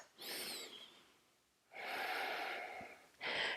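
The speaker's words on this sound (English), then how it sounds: "Take a few deep breaths here." Deep breaths at the end of a mat Pilates workout with a box: a long audible inhale, a pause, then a longer airy exhale and the start of another breath, close and quiet with no talking.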